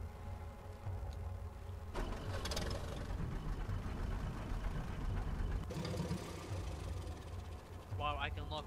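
Low engine rumble of a tractor idling in the video game DayZ Epoch runs steadily throughout, with bursts of louder mechanical noise partway through and brief game sounds near the end.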